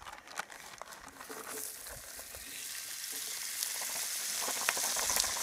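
Fingerling potatoes sizzling on a Mojoe griddle outdoors, a steady bright frying hiss that swells as they settle onto the hot surface, with occasional scraping and stirring crackles.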